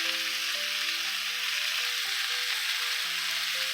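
Bone-in New York striploin steak sizzles steadily in a pan with garlic, a dense, close, continuous frying hiss with a faint tonal hum running beneath it and no voices.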